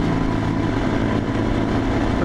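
A Honda NSR 150 two-stroke motorcycle fitted with a big carburetor runs steadily and loud at close range, its dense engine drone holding an even pitch without breaks.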